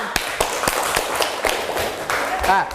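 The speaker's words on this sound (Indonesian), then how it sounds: "tepuk tangan untuk kita semua" Scattered hand claps from a small group in a classroom during a teacher-training practice lesson, sharp and uneven, mixed with voices talking over them.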